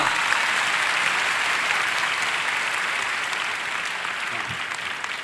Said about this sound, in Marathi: चांगल्यासाठी टाळ्या वाजवा